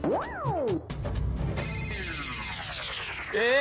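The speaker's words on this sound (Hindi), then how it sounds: "मेरा मोबाइल बज रहा है भाई, किसका फोन है?" A mobile phone ringtone plays loud and close, an electronic melody of rising and falling sweeping tones that repeats, heard alone with no talking over it.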